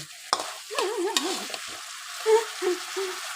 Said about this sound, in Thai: ผัดกะเพราพี่ปุ๊